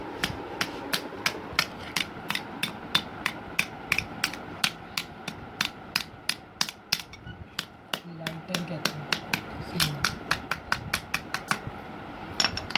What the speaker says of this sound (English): Now move towards the hammer shots test.